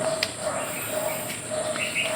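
Faint bird chirps scattered over a steady outdoor background hum, a few brief high tweets rising near the end.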